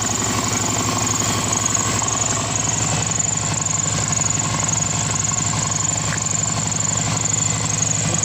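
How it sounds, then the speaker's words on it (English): A Subaru Forester SG9 with an EJ255 turbo engine runs steadily at idle, a continuous close mechanical rumble with a constant high whine, no talking. "I just show you the engine running"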